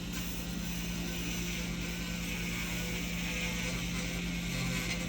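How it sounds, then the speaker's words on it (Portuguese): A dental straight handpiece fitted with a Maxi Cut bur trims burrs and points off acrylic resin, making a steady, continuous whirring grind with a constant mechanical hum throughout. "com o uso da peça reta e a fresa Maxi Cut, fazemos essa remoção dessas rebarbas, esse acabamento, remoção de pontas"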